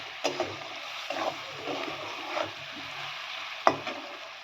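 Salted onions crackle and sizzle softly in a hot pan, with a few scraping stirs and one sharp clink of a utensil.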